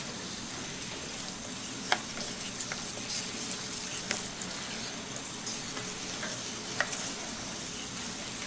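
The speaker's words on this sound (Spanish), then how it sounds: "Seguimos removiendo." A thick liquid mixture made with sulfur is stirred in a container, a faint continuous bubbling, scraping hiss with a few sharp small ticks scattered through it, no voices.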